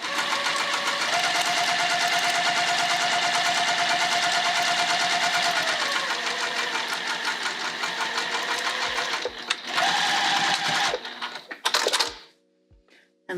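A sewing machine stitches fabric for a Hendrix bag, running in a steady, continuous mechanical whir for about eleven seconds, pausing briefly, then finishing with a few short bursts and clicks before falling quiet.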